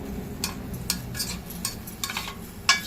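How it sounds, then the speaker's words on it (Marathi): Spoon scraping and stirring stuffed ridge gourds in a pan, several irregular strokes over a faint sizzle, close by. "थोडस हे असे"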